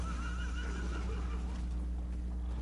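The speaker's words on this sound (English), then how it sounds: "Do you guys hear the horse freak out?" A horse in the video game Oblivion neighs and whinnies in agitation, a wavering squeal over a steady low game-ambience hum, with no talk.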